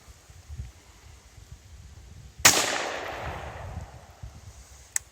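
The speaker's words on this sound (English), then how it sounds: "We'll try our 22 Magnum first" A single sharp crack from a .22 Magnum rifle fired outdoors in the bush into a termite mound backstop, followed by a decaying echo across open ground.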